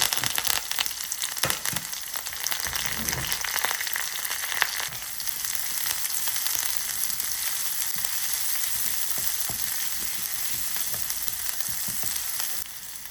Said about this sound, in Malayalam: നമുക്കതിലേക്ക് നമ്മൾ അരിഞ്ഞ് വെച്ചിരിക്കുന്ന ചെറിയ ഉള്ളിയും വെളുത്തുള്ളിയും കറിവേപ്പിലയും ചേർക്കുക